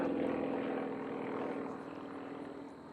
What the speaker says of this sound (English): diving into the box, wing wagon with a downwind entry, Marco Bow in the SU-26